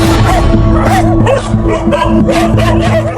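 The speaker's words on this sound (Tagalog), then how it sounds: "para sa aming mga alagang hayop katulad ng aming aso na sina Kongkong, Soy Soy at si Argus" Dogs kept as household pets bark and yip loudly and close, with whimpering yelps mixed in, a busy overlapping chorus filling the whole stretch with no pause.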